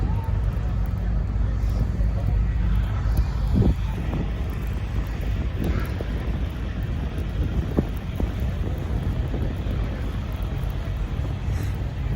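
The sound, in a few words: storm wind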